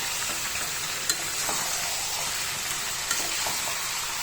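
Chicken skin curry with potato pieces cooks in a pan, a steady close sizzle and frying hiss broken by two sharp utensil clinks, with no talking.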